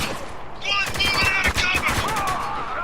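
Gunfire in the video game Spec Ops The Line, a dense run of rapid shots with metallic ringing that continues steadily for a few seconds, loud and close, with voices talking over it.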